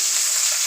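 Chopped onion and green chili frying in hot oil for fried rice, a steady close hiss of sizzling with no voices over it.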